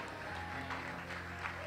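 A church congregation applauds during a Portuguese-language evening worship service, a soft, distant patter of clapping over sustained keyboard or organ tones and murmured voices.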